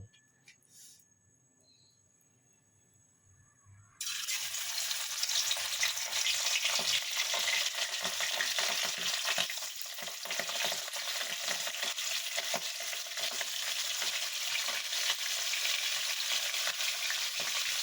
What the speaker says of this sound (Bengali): আমার কড়াটা তেলটা গরম হয়ে গেছে, এবার আমি মাছটা ভেজে নেব